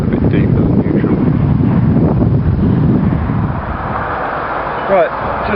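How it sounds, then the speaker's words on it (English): Strong wind gusting outdoors in a garden with plants being knocked about, heavy low rumbling buffeting of the microphone that eases slightly toward the end, with a faint voice in the background. "It's also now very windy, the plants are getting a bit knocked about"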